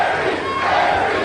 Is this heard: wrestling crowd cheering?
yes